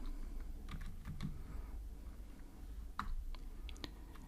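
Steady, close typing on a computer keyboard while writing Android app code, with quick clusters of key clicks and brief pauses over a low background hum, no voices.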